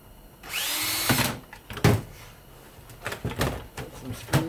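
Power drill driving screws into a fan housing during a teardown, a few short whirring bursts separated by clunks and handling noises, close and fairly quiet.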